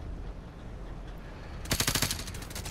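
Rapid automatic gunfire from the video game Call of Duty Modern Warfare Remastered, a loud burst of closely spaced shots after a stretch of low background noise.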